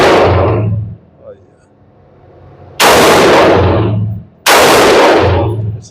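Three sharp, loud shots from a Geissele Super Duty AR15 5.56 rifle at an outdoor range, spaced a second or two apart, each followed by a decaying echo.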